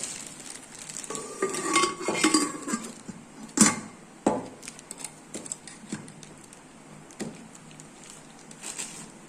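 Parts of a new Prestige 3-litre pressure cooker being handled, with the metal lid and pieces clinking and knocking close by in irregular bursts, one sharper clack near the middle, then quieter scattered taps.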